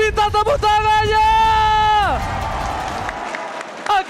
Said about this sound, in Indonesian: MPL Arena minta tepuk tangannya!